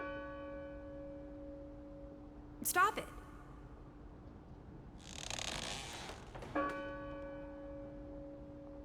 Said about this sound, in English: That bell still bothers me.